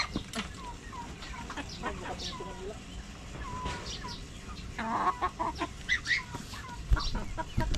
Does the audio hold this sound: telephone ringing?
no